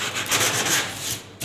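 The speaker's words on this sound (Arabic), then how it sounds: "حتة صنفرة." Sandpaper rubs back and forth over a piece of wood for a wooden 4x1 bed, loud and close, in a few continuous strokes with no talking.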